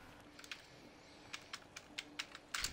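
Typing on a computer keyboard: scattered quiet key clicks at first, then a clear run of single taps spaced about a quarter second apart, ending in a quick cluster of keystrokes, fairly faint over a low hum.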